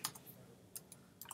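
Computer keyboard typing during a football card pack opening: a few quiet, sparse key clicks spread across a short, otherwise hushed moment, with no talk.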